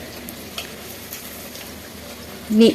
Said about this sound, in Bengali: একটু লো ফ্লেমেই করছি ভাজা হয়ে গেলে একটা পিঠ উল্টে দেব